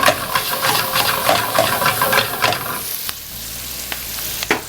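Onions sautéing in a pan sizzle loudly and steadily with stirring scrapes, then the frying quiets to a softer hiss near the end, close up with no talking.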